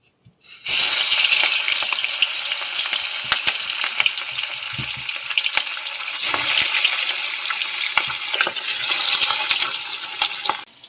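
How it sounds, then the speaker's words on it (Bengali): Pieces of small rohu-type fish hiss and crackle loudly in hot oil in a pan, a continuous dense sizzle with occasional pops and knocks, close and with no talk. "তেল গরম হয়ে গেছে। মাছগুলো ভেজে নেব।"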